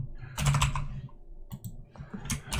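Typing on a computer keyboard the speaker loves, heard as two bursts of quick clattering keystrokes, close and fairly loud, separated by a brief lull.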